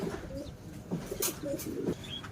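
A pigeon or dove cooing softly a few times, low throaty coos with faint chirps in a quiet outdoor setting.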